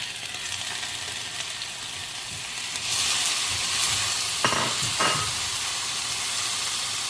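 Large chopped tomato frying in a pan for a homestyle beef masala roast, with a steady sizzle and hiss and a few sharp stirring scrapes near the end; no talking.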